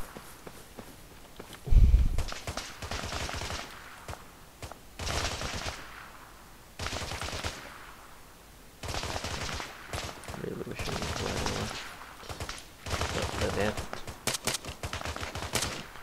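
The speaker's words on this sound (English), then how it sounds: "Oh, they're shooting at a former prisoner." ARMA 3 gameplay on Tanoa brings bursts of automatic rifle fire and single shots in repeated volleys at mid distance, with footsteps between them and occasional talking.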